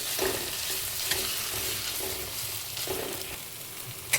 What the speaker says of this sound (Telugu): దీన్ని మంచిగా ఫ్రై చేసుకోవాలి.